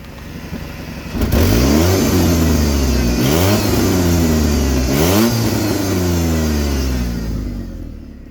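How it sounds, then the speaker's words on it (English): A 2006 Mazda Tribute SUV engine idles, then revs up sharply and repeatedly, three rising and falling surges heard close by before dropping back toward idle, with no talk. "I'll just rev it up a little bit for you."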